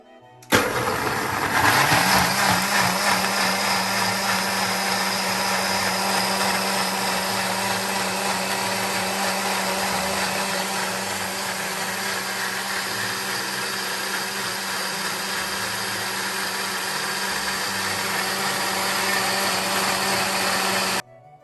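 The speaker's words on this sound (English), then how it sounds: "Let's blend them, guys." A KitchenAid blender purees oranges and clementines, spinning up sharply and then running at a loud, steady, whirring roar close by for about twenty seconds before cutting off abruptly.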